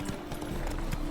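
Horse galloping in The Witcher 3, hooves clip-clopping in a steady quick rhythm of soft repeated thuds, close and continuous for about a second.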